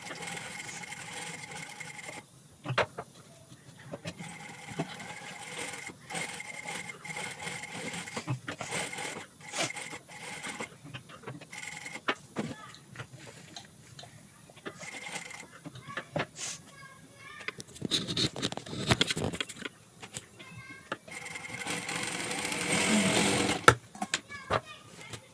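A sewing machine stitches along a blouse neckline in short, uneven runs of quiet mechanical whirring and clatter, heard close up beneath a woman's ongoing explanation.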